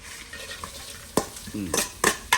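Sizzling and scraping of pork skin stir-frying in a dry wok without oil, with a few sharp clatters of a utensil stirring the food, close by and fairly steady.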